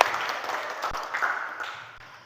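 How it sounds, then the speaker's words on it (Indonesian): Brief scattered clapping from students in a classroom for a classmate, starting lively and tapering off quickly over about two seconds. "Oke, tepuk tangan untuk Anjani."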